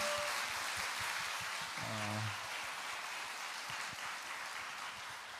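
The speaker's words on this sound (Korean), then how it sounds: "목사님 환영하는 마음으로 박수로 모시겠습니다" A church congregation at a special Friday late-night worship service claps to welcome the pastor, a soft, distant, rain-like patter of many hands that stays even throughout.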